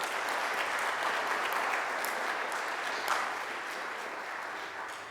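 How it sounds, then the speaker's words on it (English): An audience at a career expo gives panelists a sustained round of applause, a dense, even wash of clapping lasting several seconds and tapering slightly at the end. "Let's have a better round of applause for our panelists"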